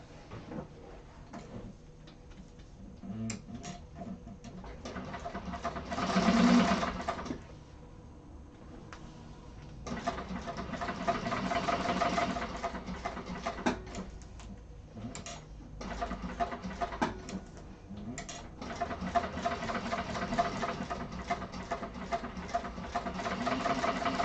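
Sewing machine running top stitching along the folded edges of a handbag, a close whirring, ticking mechanical drone in several long runs separated by short pauses.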